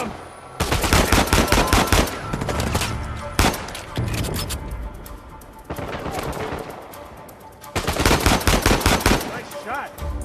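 Uncharted 4 firefight: loud automatic gunfire in dense bursts with short pauses between them, sharp and close over ongoing combat noise.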